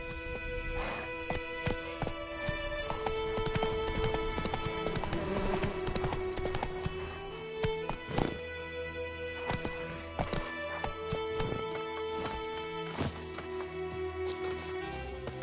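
Roach the horse's hooves clip-clopping in The Witcher 3, a steady rhythmic gallop heard over a dense layer of game music.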